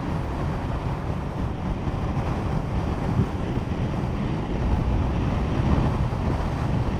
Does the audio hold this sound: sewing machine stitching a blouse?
no